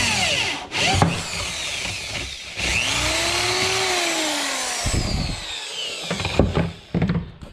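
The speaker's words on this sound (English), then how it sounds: "so I had to drill these holes." A power drill bores holes in the wooden panels of a four-player arcade cabinet, loud and close, its motor whine rising and falling between bursts of grinding and handling noise.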